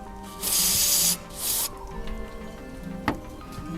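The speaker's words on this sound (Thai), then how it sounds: "เราฉีดเพื่อทำความสะอาดนะครับ" Cleaner is sprayed onto the air flow sensor of an Isuzu D-Max in two close, loud hissing bursts, the first longer, followed by faint handling clicks.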